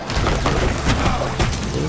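Bomb explosions in the video game UnderMine, a dense, continuous roar of booming blasts with a few sharper bursts cutting through, loud and close throughout.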